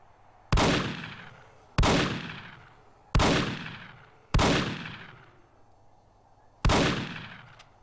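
Five loud, separate gunshots crack out at irregular intervals of about one to two seconds while shooting at a zombie in Roblox Apocalypse Rising, each a sharp close bang trailing into a short echoing decay.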